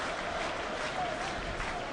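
Football crowd at a Clyde v Rangers Scottish Division 3 match applauding Clyde's Stefan McCluskey as he is substituted and leaves the field; a faint, distant, steady spread of clapping and crowd noise in a large stadium.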